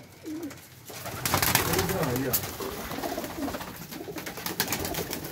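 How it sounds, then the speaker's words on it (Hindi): Domestic pigeons, including a Rampuri pair, coo repeatedly in a rooftop loft, soft low coos over background noise while someone talks. "ये देखें जी, थोड़े से कबूतर रखे हुए हैं जी इन्होंने"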